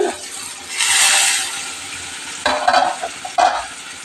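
Chicken chutta keema being stirred in a hot pan, a steady sizzle swelling early on, then a few sharper scraping strokes of the spoon against the pan near the end, with no talking.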